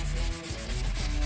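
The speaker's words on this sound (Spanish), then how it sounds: "Lo empezamos a lijar." Fine-grit sandpaper rubbed over a patched crack in drywall gives a steady, close scratchy sanding sound with one brief dip in the middle. No one speaks.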